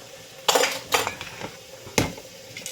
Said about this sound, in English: And I'm just going to remove the rings here.